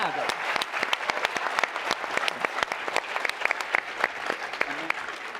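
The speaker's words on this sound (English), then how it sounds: "one more round of applause for Orbit Fab." A conference audience at TechCrunch Disrupt SF 2019 in San Francisco gives a round of applause after a startup presentation, with sharp individual claps rattling steadily for several seconds in a large hall.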